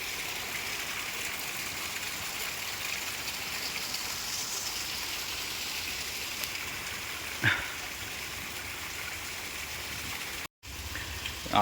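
Continuous monsoon rain hisses evenly over fields, a constant wash of sound with one faint knock partway through and a brief dropout near the end.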